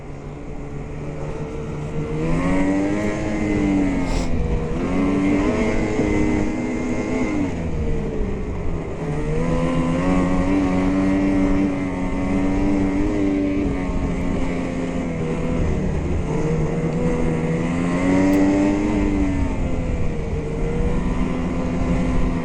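A 2021 Ski-doo Renegade 850 E-TEC two-stroke snowmobile riding through fresh powder at Old Forge, its engine droning steadily and loud with uneven throttle swells and revs rising and falling, heard up close and alone.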